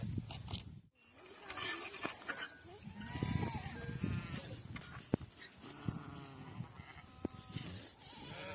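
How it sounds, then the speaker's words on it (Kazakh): Several sheep bleat in overlapping calls amid a noisy flock, some close and loud, others further off. "Енді қазір қойларды санап шығарамыз"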